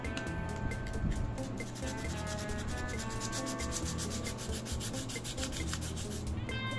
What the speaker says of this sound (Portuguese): é pegar uma lixa e remover essas pontinhas que ficam